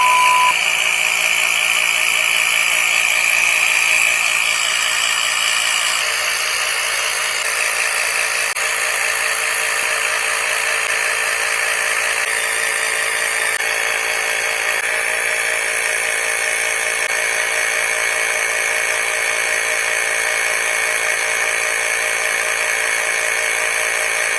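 A steady ADNOOM 6000mAh battery portable tire inflator whirs continuously with a bright, high-pitched motor drone, loud and close, shifting slightly in tone partway through while filling a mini truck tire.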